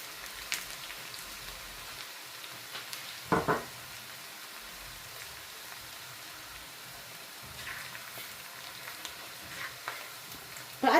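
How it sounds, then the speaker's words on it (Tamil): Garlic fries in oil until golden brown, giving a soft, steady sizzle with a few louder crackles and stirring clatters. It stays fairly quiet throughout. "இந்த உள்ளியை போட்டு நல்லா இதுவும் கோல்டன் ப்ரௌன் ஆகும் வரையும் பொறித்து எடுக்க வேணாம்"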